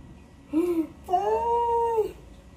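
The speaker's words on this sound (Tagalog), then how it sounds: "Meron din dito kuting oh" A kitten gives two mewing calls, a short rising one and then a longer drawn-out meow, close by and clear over a quiet background.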